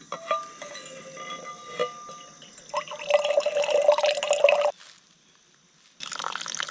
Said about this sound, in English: Got that water drop system hung up there, and then the water's running down through the tube